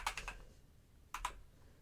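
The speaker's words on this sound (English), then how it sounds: "of course you will hear typing" Quick bursts of keyboard typing, a short flurry of clicks, a pause, then a couple more keystrokes, close and fairly quiet.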